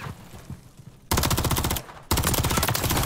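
Automatic gunfire in Call of Duty: Modern Warfare 3 multiplayer: after a quiet opening with faint game noise, two loud sustained bursts of rapid rifle fire ring out close, separated by a brief pause.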